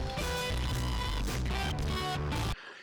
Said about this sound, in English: OneCornerClip sounds like this.